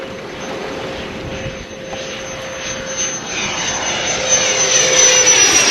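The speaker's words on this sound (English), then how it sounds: "Overflight by French Navy aircraft." French Navy aircraft flying low over a boat at sea, a steady engine roar that swells louder toward the end, with a constant hum from the vessel underneath and no talking.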